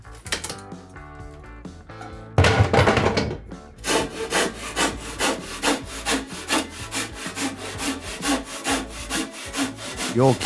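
A carpenter saws through old wood while tearing out a room for a home renovation, the blade cutting in a steady, fast rhythm of close, loud strokes after a few quieter scrapes at the start.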